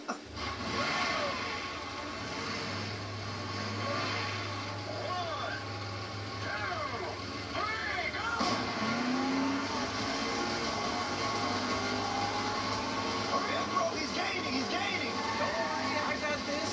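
A fully loaded farm truck weighing over 5,000 pounds with a boat in the back races a twin-turbo Porsche supercar, steady engine roar and road noise throughout, with a deep low rumble dropping away around the midpoint.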